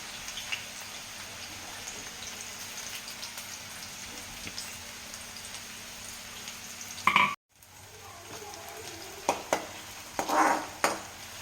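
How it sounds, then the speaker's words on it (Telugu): Chopped medium-sized onions fry in a pan with a soft, steady sizzle and faint crackle, a few louder pops and stirring clatters near the end, with no talking. "ఇలా ఆనియన్స్ కొంచెం సేపు ఫ్రై అయిన తర్వాత"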